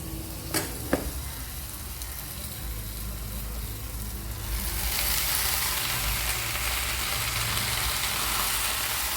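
Agathi greens and tomatoes sauté in a pan, giving a steady loud sizzle that swells into a brighter, denser frying hiss about halfway through, with a couple of sharp clicks early on.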